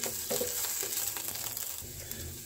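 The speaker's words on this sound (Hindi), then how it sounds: "इन्हें कुछ सेकंड्स के लिए सॉटे कर लेते हैं।" Finely chopped green chillies sauté in a hot pan, a steady bright sizzle with faint stirring scrapes throughout, close and fairly loud.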